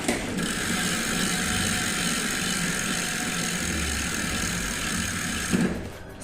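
Bicycle freewheel ratchet fitted with an added noise-maker, giving a steady loud mechanical buzzing whir that runs continuously for about five seconds and then stops.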